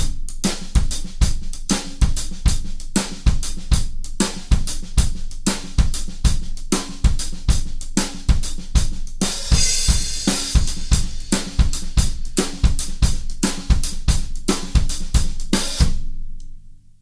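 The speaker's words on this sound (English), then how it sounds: "I divided the malfouf rhythm, so to say, between my bass drum and my snare" Malfouf rhythm split between bass drum and snare drum on a drum kit, played as a steady, busy groove of loud, close hits that stops near the end.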